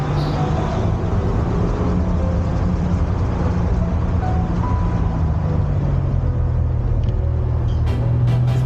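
Porsche 993 Carrera 4 Cabriolet driving along with a steady engine drone and road rumble throughout, close and continuous, with the pitch shifting slightly toward the end.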